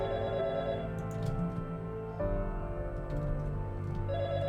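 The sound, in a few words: phone ringing in the video game Fragments of Him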